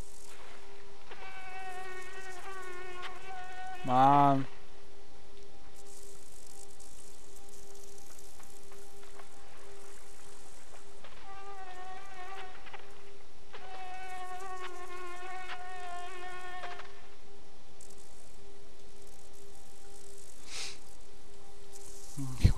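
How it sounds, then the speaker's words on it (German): A mosquito in the dark puzzle-platformer Limbo whines in repeated buzzing bursts with pauses between them over a steady ambient drone, with one brief louder swell partway through and a single short word spoken. "Das ist eine Mücke."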